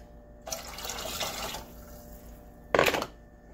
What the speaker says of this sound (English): Now I'm going to pour in the chicken broth.